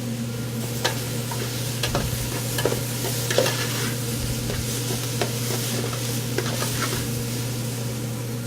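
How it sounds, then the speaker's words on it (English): Garlic sautéing in a pan for chili gives a steady sizzle with a faint constant hum beneath and occasional soft scrapes and clicks of stirring. "at the end of the sauteing, I like to put the garlic in there for only about 30 seconds"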